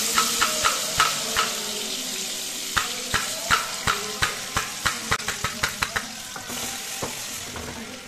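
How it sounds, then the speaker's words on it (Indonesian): Ground spice paste sautéed in a pan, with a constant close sizzle and a run of sharp, rhythmic spatula scrapes and taps that quicken toward the end. "Kita tumis dulu bumbu yang dihaluskan tadi."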